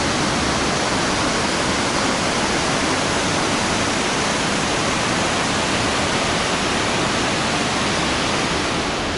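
Mountain river rushing through the deep Khadzhokh gorge canyon near Kamennomostsky in Adygea, a dense, steady roar of water heard from high above that continues without a break for the whole stretch.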